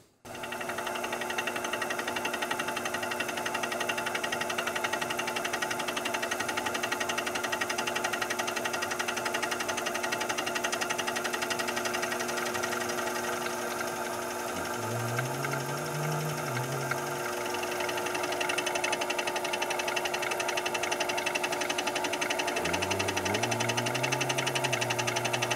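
A vertical milling machine runs steadily through a left-to-right cut on a workpiece, a continuous close mechanical drone with a tonal hum that wavers and shifts pitch near the end, with no talk.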